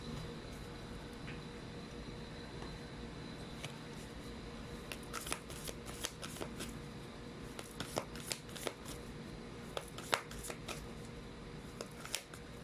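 Tarot cards are shuffled close by in a string of soft, quick riffling clicks and flutters, growing busier toward the end in a quiet room.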